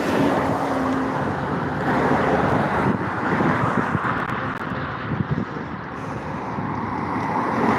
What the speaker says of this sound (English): The wind feels like it is coming from the east.